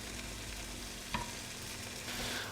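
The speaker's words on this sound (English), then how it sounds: "We're going to cook them until they have a slight sort of tinge of brown on them." Mushrooms fry with coconut and garlic in a pan, a steady low sizzle close by with a single soft clink near the middle, no voices.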